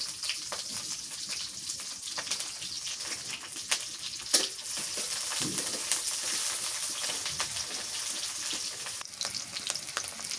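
Garlic and green chillies frying in oil, a steady close hiss and crackle of sizzling with scattered pops and occasional stirring clinks, no voices over it.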